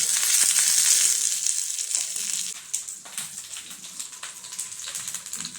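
Mustard seeds fry in hot oil as a tempering for a homestyle cucumber and jackfruit seed curry, with curry leaves added off the heat. A dense, loud crackling sizzle full of sharp pops slowly fades and thins.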